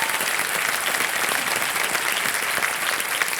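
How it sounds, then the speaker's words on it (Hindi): A studio audience on the Kaun Banega Crorepati game show claps in dense, sustained applause, loud and even throughout the short stretch. "तालियां बज जाएं उनके लिए।"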